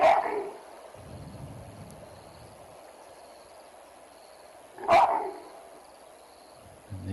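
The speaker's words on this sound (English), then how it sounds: "beautiful baboon bark." Baboons give two sharp, distant barks about five seconds apart in an African wildlife setting, over a faint steady insect hiss.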